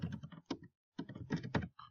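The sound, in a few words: typing on a computer keyboard, entering a date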